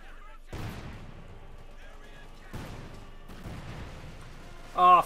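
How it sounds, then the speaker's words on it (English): Cluster bombs bursting in Company of Heroes 2 during an OKW versus USF match: a few heavy explosion rumbles roughly two seconds apart, each trailing into crackling debris, at moderate loudness with a brief louder burst near the end. "Cluster bombs."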